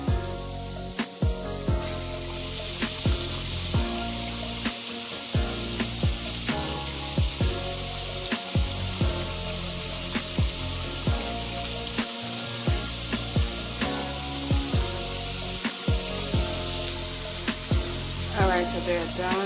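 French fries bubble in oil in a pot on a stovetop, a continuous sizzling hiss broken by regular clicks and knocks, like a utensil stirring or tapping the pan. The sound is close and steady, with no talking.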